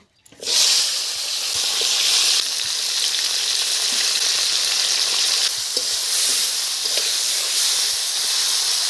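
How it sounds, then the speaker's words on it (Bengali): Loud, steady sizzling of broad beans frying in hot oil starts abruptly and continues throughout, with occasional faint clinks of a utensil. "এবারে শিম কটা একটু ভেজে নেব।"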